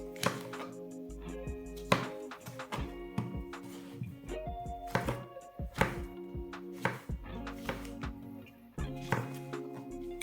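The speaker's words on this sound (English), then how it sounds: "all we're going to do is cut them into about 1/2 inch slices" A knife slices chestnut mushrooms into half-inch pieces on a cutting board, a series of crisp, irregular taps and thuds, close and fairly quiet. There is no talking.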